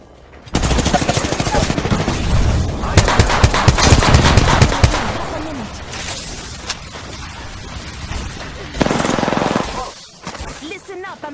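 Loud, rapid bursts of gunfire in the video game Apex Legends, with dense automatic volleys early on, then scattered shots and a later burst, alongside game sound effects and some voice activity.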